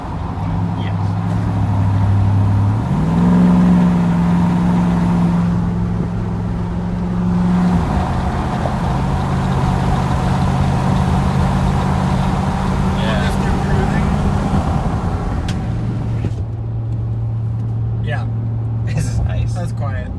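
A 2015 Ram 6.4 with a Flowmaster FX exhaust, heard from inside the cab: a loud, steady low drone that climbs and settles as the engine is held around 3,500 RPM, with people talking over it.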